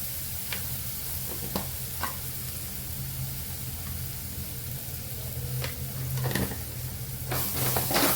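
Peas and potato paratha filling being sautéed in oil in a pan: a steady close sizzle with occasional scraping stirs and clicks of a spatula against the pan, growing a bit louder toward the end.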